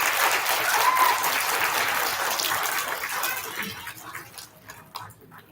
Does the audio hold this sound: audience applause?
yes